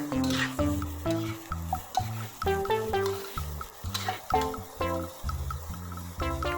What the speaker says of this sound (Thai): เราก็ผัดไปเรื่อย ๆค่ะ